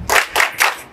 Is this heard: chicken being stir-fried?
no